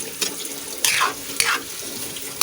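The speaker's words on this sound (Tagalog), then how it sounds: "Damihan ko siya ng tubig guys" Water being added to a cooking dish for a home-cooked dinner, splashing and pouring in several short bursts with gurgling and clatter between, close and moderately loud.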